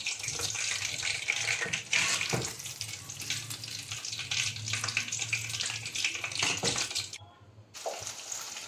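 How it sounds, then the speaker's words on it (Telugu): Chicken 65 pieces deep frying in hot oil: a loud, steady, hissing sizzle with bubbling crackles that continues without a break, then cuts out briefly before the frying resumes. "ఇంకా మిగతా చికెన్ కూడా వేసుకొని ఇది కూడా బాగా డీప్ ఫ్రై చేసుకుందాము"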